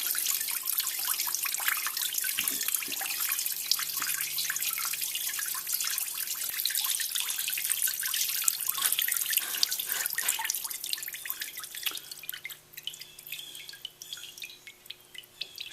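Gasoline from the crankcase of a brand new engine drains into a container in a steady trickling pour with scattered drips, close and fairly quiet, thinning out toward the end.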